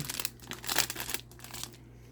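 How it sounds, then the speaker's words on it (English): A Flesh and Blood trading card booster pack wrapper is torn open by hand, producing close crinkling and ripping foil noises in a short burst that peaks midway, then fades. "Alright, we'll rip this open."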